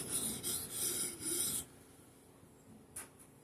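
A Norton JUM3 Crystalon stone strokes across a Husqvarna hatchet blade: four quick rasping passes close by, then near silence with one faint scrape near the end.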